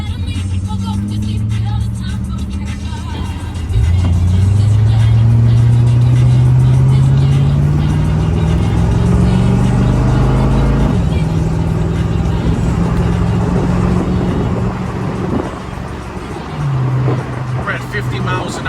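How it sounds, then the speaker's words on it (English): A 1970 Ford Mustang with a 302 V8 cruises straight down the road at 50 mph, its low-RPM engine droning steadily from inside the car with road noise, while someone talks over it. "We're at 50 miles an hour, and it's straight going down the road. Nice and smooth, low RPMs"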